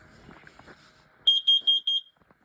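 A carbon monoxide detector sounds its alarm during a test-button test, giving four loud, piercing high beeps in an even rhythm after a brief stretch of quiet handling noise.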